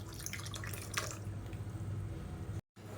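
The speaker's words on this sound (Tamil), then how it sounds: "இப்போ பாருங்கள், மிக்ஸி அலசிட்டு அந்த தண்ணியை சேர்த்துக்கலாம்." Rinse water from a mixer jar poured into a bowl of ground chutney, giving a steady close splashing trickle for a few seconds before a brief cut to silence.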